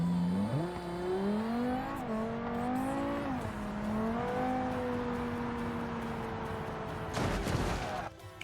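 Supercar engine in a racing video game revving up through gears, rising and shifting whines with a roaring tone, then a burst of sharp crackling pops near the end, loud and close.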